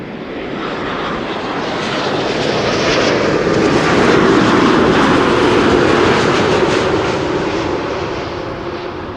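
An airliner landing at Schiphol Airport makes a loud, broad jet roar that builds and then eases off, with no voices.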